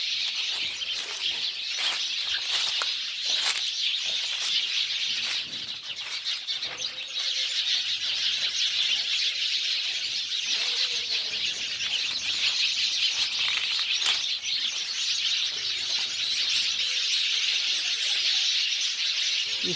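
Birds in a home garden chirp and tweet continuously over a dense, hissing chorus, with occasional wing flaps and soft cooing from pigeons or doves, and no talking.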